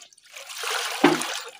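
Water trickles and splashes steadily as it is poured for goats, building to a fuller pour near the end.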